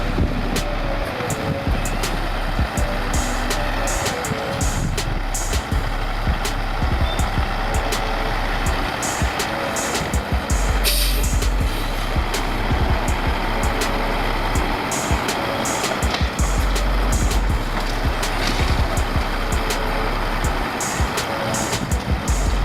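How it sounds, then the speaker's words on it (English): A heavy logging truck tips its container steeply to dump its load, a continuous loud diesel engine rumble with hydraulic strain and occasional metallic clanks throughout. "By lifting the container at a steep angle, the truck empties completely without leaving behind any material."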